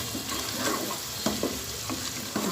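Onion with ginger garlic paste frying in a pan for a chicken curry, a steady sizzle broken by a few spoon-stirring scrapes, close and fairly loud with no speech.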